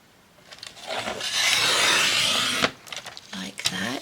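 Folded paper trimmed for a craft page, a rasping scrape and rub of the cut lasting a couple of seconds, close and fairly loud, with short handling noises after it.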